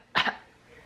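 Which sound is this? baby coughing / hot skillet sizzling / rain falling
baby coughing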